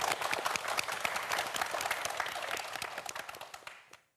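Studio audience applauding on a Korean TV quiz show, dense steady clapping for about four seconds before it stops abruptly.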